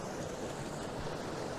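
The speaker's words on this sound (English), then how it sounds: "That nice waterfall coming down through the ice" A waterfall pours down through river ice in winter, a steady hissing rush of water heard alone at low volume.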